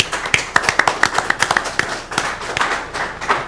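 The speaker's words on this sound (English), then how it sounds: "I'd just like to thank you and just give you a hand clap." An audience at a monthly meeting gives a short round of applause, a brief burst of sharp, separate hand claps that thins out toward the end.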